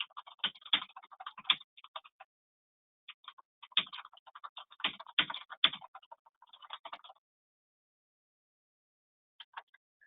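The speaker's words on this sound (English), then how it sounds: "I'm just going to type a little bit more of a message to him." Someone types a message on a computer keyboard in quick clattering bursts of keystrokes, separated by pauses and ending with a few isolated taps, close and quiet.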